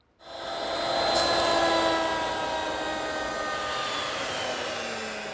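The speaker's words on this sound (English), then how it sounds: "Now I want to mill up this molding. It'll take 3 passes and 3 bits." A router cuts a wood molding profile with a bit, milling one pass along a thick wooden blank; a steady, loud, whining motor roar runs throughout with no talk.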